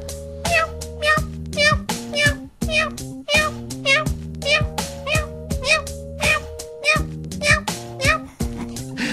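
A voice imitates a kitten, letting out repeated high, wailing meows in quick succession over a busy musical background, loud and close.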